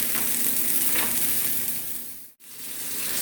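Breakfast fritters fry steadily in a pan, giving a loud, continuous sizzle and crackle close by, with one brief dip in the sound near the end.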